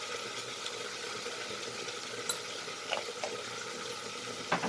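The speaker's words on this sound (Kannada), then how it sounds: "ಚೆನ್ನಾಗಿ ಫ್ರೈ ಆಗಿದೆ ಈಗ" Butter chicken masala with melon seeds fries in a pan, a steady close sizzle with occasional faint stirring clicks and scrapes against the metal, no voices.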